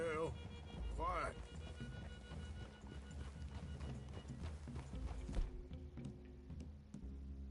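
Hooves clip-clop at a steady walk under voices talking in Red Dead Redemption 2, with a horse's brief whinny near the start.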